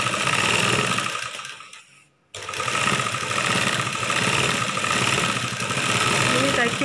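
A sewing machine runs steadily while stitching a chudithar top, a dense whirring hum that stops briefly for about a second, then resumes at an even pace close by.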